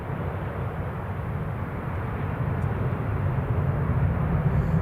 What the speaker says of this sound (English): that is the Jet2 to Tenerife airborne